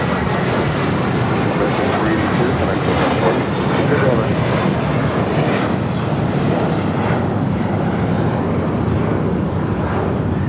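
American Airlines Airbus A321 taking off at LAX, a loud, broad, continuous jet engine roar that stays strong and steady the whole time, with no pauses.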